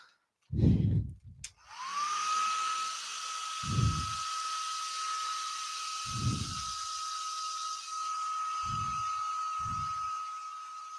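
A hair dryer blows steadily over fresh paint on a small woodturning, a loud continuous whir with a high whine running for most of the stretch, while a few low knocks and bumps sound beneath it.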